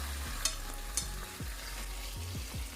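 Curry powder frying in hot oil for a Jamaican ital vegetable stew, a steady sizzle under low hum, with a few sharp spoon taps and scrapes against the pot.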